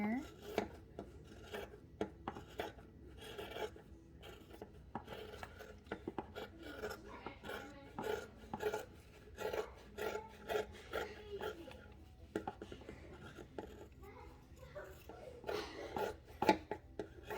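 Scissors trimming the overhanging fabric interfacing on a sewing project, a long run of soft, close rasping snips and cuts, fairly quiet and irregular, with faint background noise throughout.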